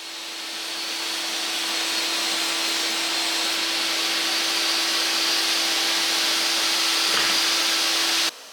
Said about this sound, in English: Here I'm cutting the drawer box parts to size